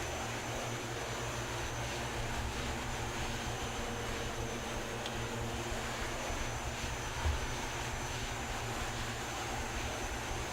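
Aircraft flying just after takeoff in Microsoft Flight Simulator 2020 over a Norwegian valley, a steady engine drone holding constant throughout with no talk.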